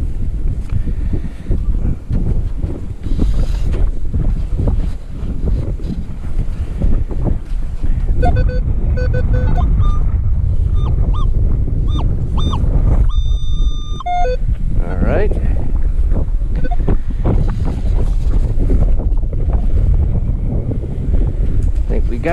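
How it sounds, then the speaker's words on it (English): Strong wind of about 15 to 20 mph at a cold beach, buffeting the microphone in a loud continuous roar with low rumbling gusts, while someone talks over it. "With a pretty good wind, probably 15,"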